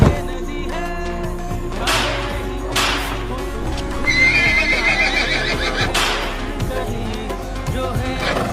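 Horses whinny loudly several times over a busy background, with scattered hoof clops and some faint voices and noise around them.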